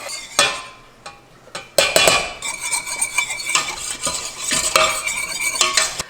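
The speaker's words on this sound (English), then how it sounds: "I'm going to whisk the flour in slowly and let it cook" A whisk stirring flour into a hot pan to cook a roux, with repeated scraping and clinking strokes against the metal and a soft sizzle underneath, close and fairly loud with no talking.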